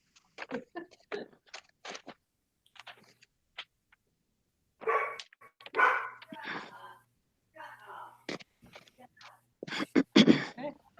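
A pet dog barking excitedly at home, heard as scattered short barks and yelps in bursts of varying loudness, some louder clusters toward the end, with a person's voice also present.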